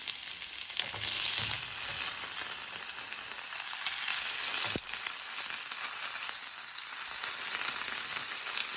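Prawn toast, placed filling side down two at a time, frying in hot oil with a steady, dense close-up sizzle and crackle throughout, one brief sharp pop midway, no voices.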